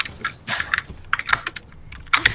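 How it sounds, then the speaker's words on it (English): Close-miked typing on a GK61 mechanical keyboard, a loud irregular burst of sharp clacky keystrokes in quick clusters with short pauses between them, no voices. "I love putting my mic near my keyboard"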